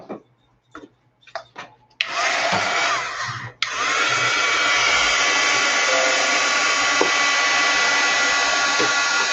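A hair dryer blows over a mixed media art journal page, roaring on loud and steady after a few taps, briefly cutting out and then running continuously up close.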